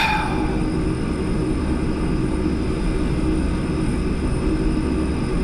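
A Douglas World Cruiser propeller plane engine in a flight simulator drones at a steady, loud, even pitch throughout, a constant broadband roar with no voices over it.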